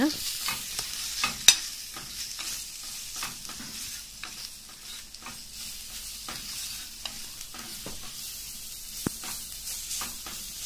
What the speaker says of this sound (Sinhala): දැන් මේක ටිකක් තෙලේ කවලම් කරගෙන ටෙම්පරාදු වෙන්න